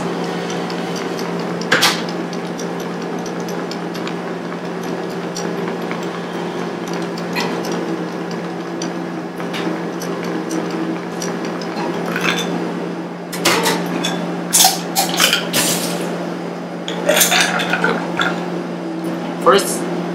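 Ice cubes clink and rattle in a chilled mixing glass while a cocktail is built at the bar, a steady drone beneath and bright clattering bursts in the second half.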